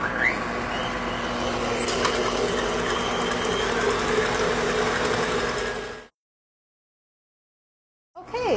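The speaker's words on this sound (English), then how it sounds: "you just whip them on medium speed for about 5 minutes, maybe 6 minutes, depending on your own mixer at home" An electric mixer whipping egg whites on medium speed for a steamed lemon pudding, a steady loud whir with rattling beater noise running continuously for about six seconds, then cutting off into silence before starting again briefly.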